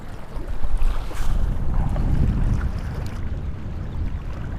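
Strong wind buffets a lake during a crappie fishing trip, a loud low rumbling roar that swells in the first couple of seconds and then eases slightly, with no speech.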